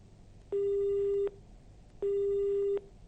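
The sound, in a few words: telephone disconnect tone after call is cut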